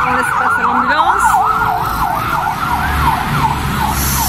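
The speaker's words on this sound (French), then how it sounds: "Ah, on laisse passer l'ambulance." Ambulance siren wailing in a steady up-and-down sweep as it passes through a Songkran water-fight street scene in Koh Samui, loud and close, over traffic and crowd noise.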